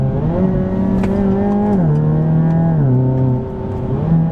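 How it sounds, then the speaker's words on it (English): A car's exhaust drones loudly and close, its pitch stepping up and down through several revs, with a few sharp crackles and pops over the engine note. "you still get the awesome exhaust sounds, and you get the crackles and the pops and stuff if you want"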